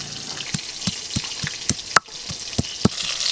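Bata fish frying in a pan, with a steady sizzle of hot oil and a series of sharp scraping clicks from a spatula, roughly every third of a second.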